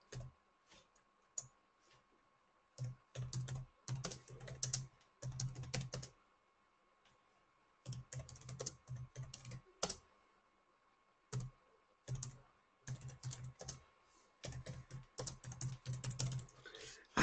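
Bursts of typing on a computer keyboard, quick rapid clicks coming in clusters separated by short silent pauses, close and clear with no talking.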